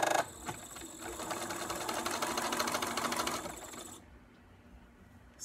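Sewing machine stitching through fabric, a fast steady whirring chatter running for about three and a half seconds before stopping abruptly into quiet.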